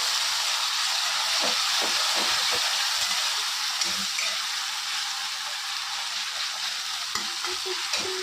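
Cumin, tomato and red chili frying in a pan, a steady loud sizzle and hiss with soft stirring scrapes underneath, heard close and continuous throughout.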